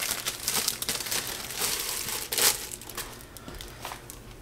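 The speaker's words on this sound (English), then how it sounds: "we're going to add our slow cooker liner just to make cleanup way easier." Plastic crinkles and rustles up close as a thin slow cooker liner is handled and spread out in a crock pot, with bursts of crackling over a few seconds.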